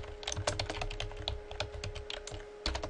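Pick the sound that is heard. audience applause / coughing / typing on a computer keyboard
typing on a computer keyboard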